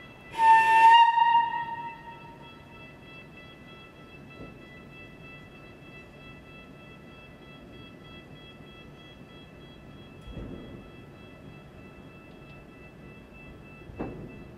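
A historic Baureihe 165 electric railcar runs with a faint, steady rumble inside, after a brief tonal horn-like call near the start and a couple of soft knocks later on.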